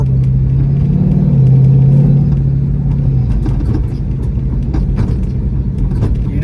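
A car with a slightly slipping clutch cruising through a neighborhood, a loud, close engine drone with a steady low hum that eases off midway into rougher rumbling, no talk.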